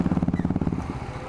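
A Bajaj Pulsar N250 motorcycle engine thumps in a quick, even rhythm while the bike is ridden on a rough road, close and moderately loud, then eases off toward the end of the short burst.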